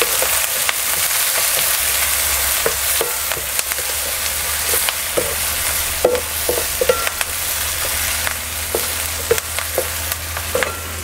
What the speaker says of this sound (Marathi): कांदा मिरची वगैरे आपलं चांगलंसं परतून घ्यायचं